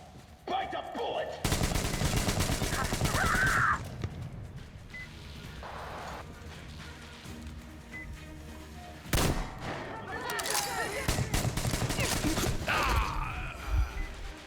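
Gunfire bursts out in the video game Metro Exodus: loud close rapid shots in two heavy clusters, with mechanical clatter and quieter stretches in between, and a voice briefly audible.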